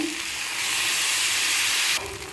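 Thin neer dosa rice batter, Kottigehara style, spreads over a hot pan on a low stove flame, producing a loud, steady broadband hiss and sizzle that eases slightly near the end.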